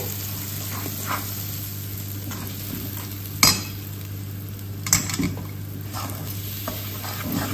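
A thick soaked besan (gram flour) mixture is stirred in a pan while cooking for patodi rassa. A spoon scrapes and clinks against the pan now and then over a steady low background hum, with no talking.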